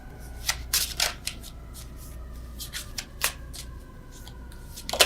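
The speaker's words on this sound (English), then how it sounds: "Terrible shuffling with you guys." Tarot cards being riffled and shuffled by hand, several quick crisp bursts with pauses between, close up and quiet.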